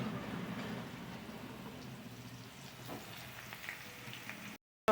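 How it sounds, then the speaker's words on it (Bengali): Potatoes and ridge gourd fry in a pan with a soft, steady sizzle and light crackle, fairly quiet throughout, before cutting off sharply near the end. "আলুগুলো একটু ভাজা হলে ঝিঙেটা দেবো, দিয়ে দিচ্ছি ঝিঙেগুলোকে"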